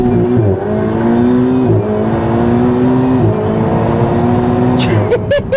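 Ferrari 488 supercar launching hard from a standstill on a slightly damp road, engine roaring loud and close with rising gear-stepped revs and brief shift breaks, then sharp tire-spin chirps near the end.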